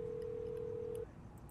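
A telephone tone sounds inside the Hello Neighbor video game, one steady unbroken tone lasting about a second over a low background hum, then cutting off abruptly.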